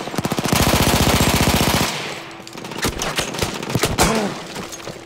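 Rapid automatic gunfire in the Battlefield 1 video game, a dense loud burst of machine-gun fire for the first two seconds, then scattered single shots and sharp impacts continuing up close.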